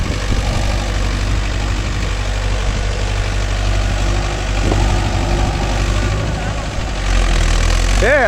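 A Mahindra Yuvo Tech Plus 585 4WD shuttle-gear tractor, hitched to a five-point cultivator in a field, idles with a steady, loud, low diesel drone that holds constant throughout, up close.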